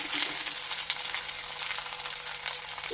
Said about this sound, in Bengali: এবার আমি কাঁচা লঙ্কাগুলো যেগুলো কাটা ছিল, কাঁচা লঙ্কা চিরাগুলো আমি দিয়ে দিলাম।